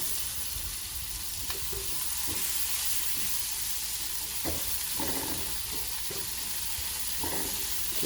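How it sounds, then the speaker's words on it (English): Chopped onion sautés in a hot pot for a spinach and cheese quiche, a constant close sizzle with occasional scraping stirs and louder crackles. "let's get the onion inside the pot here. Nice and hot."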